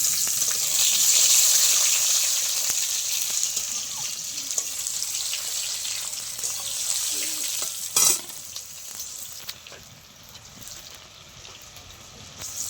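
Tomatoes going into potatoes already fried red in hot oil, producing a loud, continuous sizzle and hiss that holds steady, with a brief sharp clatter midway.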